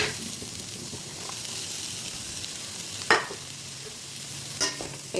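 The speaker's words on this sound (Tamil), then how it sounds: "எல்லாத்தையும் சேர்த்து நல்லா வதக்கிக்கலாம்." Cabbage sautéing with onions in a pan, Tamil cabbage poriyal: a steady, moderate sizzle hiss runs throughout, with a couple of sharper stirring scrapes near the end and no talking.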